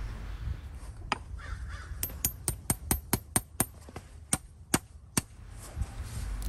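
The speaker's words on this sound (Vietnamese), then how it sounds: "đoạn này đóng đinh vào này" Nails are hammered into a horseshoe on a horse's hoof, about fourteen sharp, ringing metallic strikes in a quick, steady rhythm, close and loud over a low background rumble.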